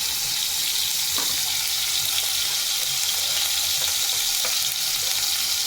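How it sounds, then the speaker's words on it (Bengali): Onion, garlic and ginger paste frying in a pan, a steady loud hiss of sizzling oil with faint scraping stirs now and then, close and continuous with no speech. "জিরার গুঁড়ি, গরম মশলার গুঁড়ি দিয়ে ভালোভাবে নাড়াচাড়া করবো"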